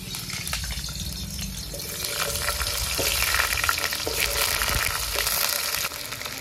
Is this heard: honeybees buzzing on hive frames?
no